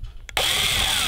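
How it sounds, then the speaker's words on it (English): A battery-powered drill whirs into steady motion, driving a screw into the wooden top of an archtop guitar, loud and close after a brief moment of quiet. "I'll use my battery drill up until the very end."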